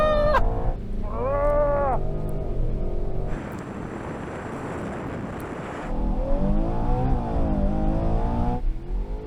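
SUVs accelerating off the line in a drag race, a loud engine roar that rises and falls through gear changes with rising whine, close and continuous with no talk.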